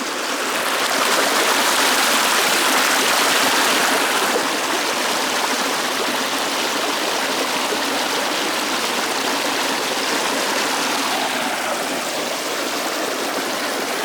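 A fairly big, foaming waterfall in the bush gives a steady, loud rushing roar that runs unbroken throughout, easing slightly in level after the first few seconds, with no voices.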